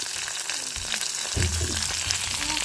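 Dried chillies, tomato and garlic fry in hot oil in a pan, giving a close, steady sizzle throughout a short stretch with no speech.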